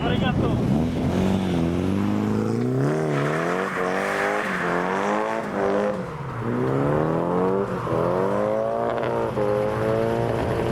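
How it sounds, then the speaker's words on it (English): An early-model Toyota Corolla drift car in worn condition revs hard in repeated rising and falling swoops, loud and close, with hints of tire squeal through the run. "It was good to see an early model drift machine at this meeting, though this particular Corolla has seen better days."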